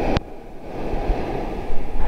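Surf and wind at the far end of a beach, a steady close roar of waves with wind gusting across the microphone and a brief sharp knock near the start.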